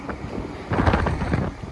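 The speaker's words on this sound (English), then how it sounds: "It is windy, guys" Wind buffets the microphone in rumbling gusts outdoors in Long Island City, New York, growing stronger midway through.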